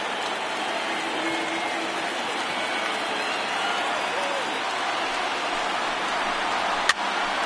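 Crowd noise in a baseball video game with over 39,000 fans on their feet, a steady dense roar of cheering that holds constant throughout, with a brief sharp crack near the end.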